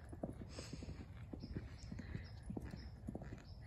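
Horse hooves thud in a steady three-beat canter over a jumping course of fences, several footfalls at mid distance, soft and rhythmic with no talking.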